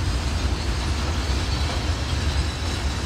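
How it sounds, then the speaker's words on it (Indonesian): A Kricak train shunting at Bangil station, hauled by a CC203 diesel locomotive, gives a loud, steady rumbling roar close by for a few seconds without a break. "di sini ada langsiran kereta api Kricak nih"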